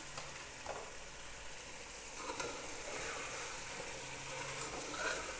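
Green chillies frying with chicken in a pan for pulao give a steady, fairly quiet sizzle with occasional soft stirring scrapes and no voices.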